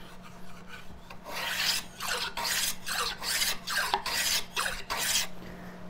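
A Veritas small plow plane shaves a bevel on a wooden box edge, giving a series of about eight rhythmic rasping strokes, close and clear, with no talking.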